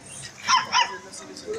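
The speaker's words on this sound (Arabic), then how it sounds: "كلب صوته مرعب بألف ونص." A large dog at an outdoor weekend street market gives two sharp barks close together, set against a murmur of crowd noise, with a couple of fainter yelps afterward.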